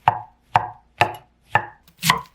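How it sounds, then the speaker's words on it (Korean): A knife slices shiitake mushrooms thinly on a cutting board, giving five evenly spaced, crisp cuts about half a second apart, close and clear with no talking. "표고버섯은 얇게 슬라이스 하세요"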